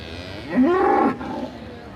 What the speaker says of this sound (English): I'm back on the cattle lines, and some of the livestock here is just about to head into the show ring.